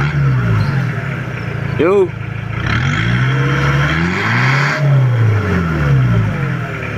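A Mitsubishi L200 engine with a modified turbo revs up and down in rising and falling sweeps, with a brief whistling rise near the middle, while someone speaks briefly over the steady engine noise.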